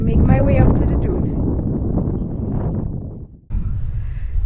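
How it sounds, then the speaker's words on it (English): Wind blowing at Great Sand Dunes National Park in Colorado, a loud rushing buffet against the microphone that dips briefly before gusting back in, with a person talking over it. "It's windy,"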